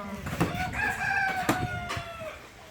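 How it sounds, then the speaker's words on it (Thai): A rooster crows loudly and close in a rural Thai farmyard, one drawn-out cock-a-doodle-doo cry with faint clucks and bird sounds around it. "ไก่ละค่ะไก่ละเด้อ"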